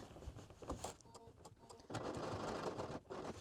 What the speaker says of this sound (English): so now we're top stitching